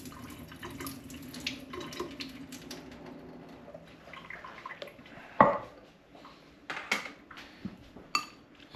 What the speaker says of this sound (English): we're going to drain off that lime juice